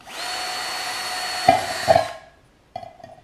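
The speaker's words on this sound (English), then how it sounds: "the last step is to drill a bunch of holes in the bottom of the inner can so that it can breathe" Power drill boring holes through the thin metal bottom of a fruit can, a steady whirring grind for about two seconds with a couple of sharp bite sounds, then a short second burst, close and alone.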